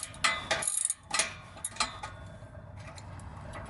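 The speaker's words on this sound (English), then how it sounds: "I've tightened these bolts all the way down" A ratchet tightens the exhaust bolts on a 2016 Mazda3 2.0L Borla axle-back install, giving short bursts of close clicking separated by pauses, with no talking.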